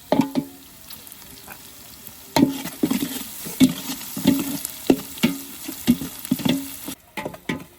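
Garlic frying in a pan for a rock fish curry (paarai meen kuzhambu), a soft sizzle under repeated sharp scrapes and taps of a ladle stirring against the metal, coming in uneven bursts.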